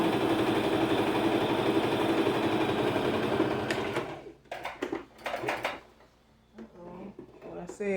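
A Brother LX3817 sewing machine runs steadily, stitching practice stitches, then stops, followed by several sharp mechanical clicks and clunks from the machine.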